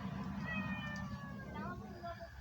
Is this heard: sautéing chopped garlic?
no